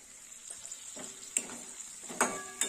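Fried potatoes stirred into spiced tomato masala in a pan, a soft continuous sizzle broken by several scraping stir strokes, quiet and close with no talk.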